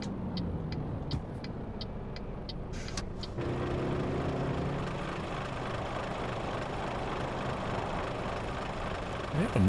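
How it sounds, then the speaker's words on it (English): In a trucking video game, a steady motorbike engine hums and revs behind the heavier drone of a truck, with road rumble throughout and a brief engine surge near the start. "I can hear a motorbike behind us."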